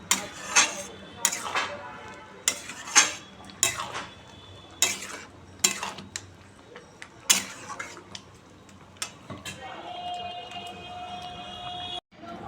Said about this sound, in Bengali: আমার কাবলি ছোলা নাড়িয়ে দিয়ে